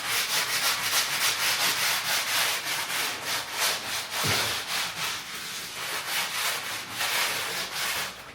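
Stiff brush scrubbing drywall dust out of floor tile grout lines, a steady back-and-forth rasping rub in quick even strokes, close and loud throughout with no talking.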